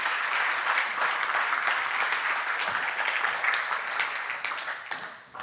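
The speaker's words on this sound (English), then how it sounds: "First applause." Audience members at the Impact 2018 conference applaud after a talk on lean accessibility, producing a brisk, dense patter of clapping that tapers off in the final second.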